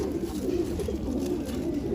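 Pigeons in a loft coo in a low, steady, overlapping murmur that carries on without a break, with no talking.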